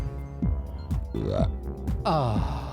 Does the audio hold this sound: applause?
no